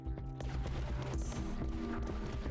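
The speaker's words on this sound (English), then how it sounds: "Sanction cannon." A sanction cannon fires in the roguelite tower-defense game Tower Dominion, a dense, continuous barrage of booming shots and blasts layered together without pause.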